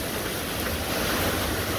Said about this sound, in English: that was a hell of a gust